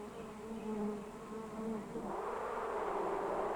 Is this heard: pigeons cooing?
no